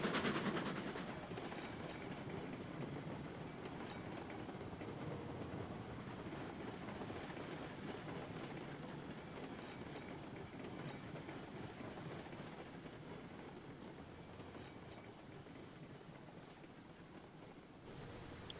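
A Shay locomotive in Railroads Online runs steadily for the whole stretch, a continuous rumbling, clattering rail noise at a fairly low level with no talk.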